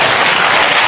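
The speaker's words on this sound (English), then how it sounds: "That's obviously just your audience, which will clap apparently anything" A studio audience on a talk show breaks into brief, loud, dense applause that fills the whole short moment.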